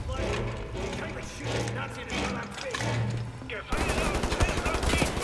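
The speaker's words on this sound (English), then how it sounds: "Let's have me an assault rifle out then." Assault rifle gunfire in Wolfenstein: The New Order, dense bursts of shots with a sharp loud flurry near the end, mixed with game ambience and voices talking over it.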